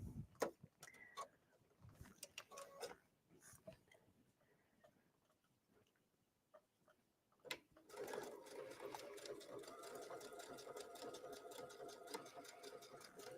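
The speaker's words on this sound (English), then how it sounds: "if you're having a hard time keeping the fabric straight, because you can see how it goes back and forth, just sew at a little bit slower speed" Sewing machine triple stitching denim while topstitching jeans: scattered clicks and taps at first, then a steady fast mechanical whir starting partway through and continuing to the end, close and clear.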